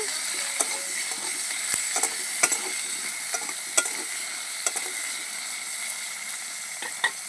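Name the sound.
potatoes frying with a little salt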